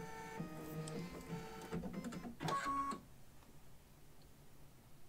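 An embroidery machine stitches a horseshoe design in the hoop, with a rapid mechanical whirring and tonal motor hum for about three seconds, then stopping, leaving quiet room noise.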